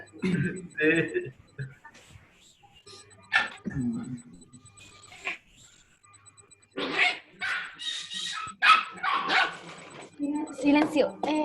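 A dog barks repeatedly in short bursts, close and loud, with barks overlapping voices on an online call.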